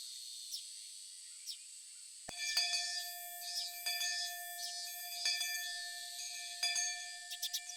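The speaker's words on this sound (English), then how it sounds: "I heard the first bell ring just as I calmed down" In the Higurashi When They Cry visual novel, a school bell rings out with a sustained bright tone after a quiet opening, with faint chiming strikes repeating over a soft background.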